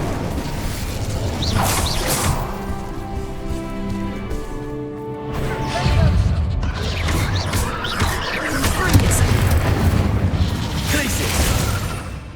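The Incendio fire spell cast in Hogwarts Legacy, heavy whooshing blasts and crashing impacts in a loud, dense game battle, with a spoken incantation over it.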